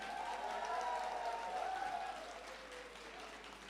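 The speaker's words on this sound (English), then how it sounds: "Let's give a standing ovation." Audience applause as a standing ovation at a Christian Endeavour triennial convention musical evening in India: dense, sustained clapping from a large crowd that holds steady, then gradually thins and softens toward the end.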